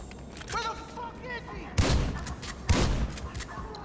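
Two loud, close shotgun blasts about a second apart in GTA 5, with game voice chatter and ambient sound before them.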